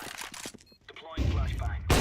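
Flashbang grenade in the Counter-Strike video game goes off with a loud, dense burst that holds for most of a second before a second sharp blast, after a stretch of busy game noise.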